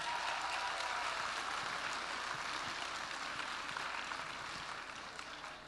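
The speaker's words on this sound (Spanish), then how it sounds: "un aplauso por favor" Audience applause at a live stage talk, a broad steady wash of clapping that holds fairly level before easing off slightly toward the end, heard alone without speech.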